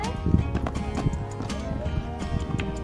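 Several horses running out into a field, a dense patter of hoofbeats with occasional snorts, close and steady throughout.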